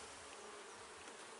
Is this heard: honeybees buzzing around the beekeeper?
yes